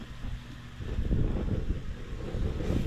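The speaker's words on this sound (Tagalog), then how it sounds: "Medyo malakas yung hangin mga kamegs." Strong outdoor wind buffets the microphone during a chicken tapa cooking session, a low rumbling roar that swells after the first second and stays steady and close.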